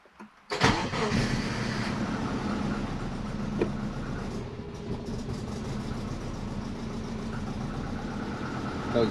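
A twin-turbo Subaru Forester cranks and fires up, then settles into a steady, fairly loud idle while warming up, running rich.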